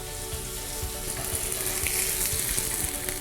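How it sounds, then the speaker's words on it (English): Steak sizzles steadily in a hot frying pan, a dense, continuous frying hiss with faint stirring and scraping underneath, close and fairly loud, with no talking. "Again, nice sizzle when it hits the pan."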